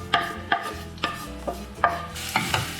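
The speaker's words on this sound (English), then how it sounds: "I want to toast them with that butter, so they have the first cook with that butter." Corn kernels toast in butter in a pan with a soft sizzle, while a utensil scrapes and stirs them in a steady rhythm of about six strokes.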